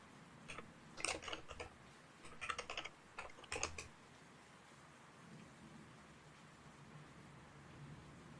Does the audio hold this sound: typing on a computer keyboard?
yes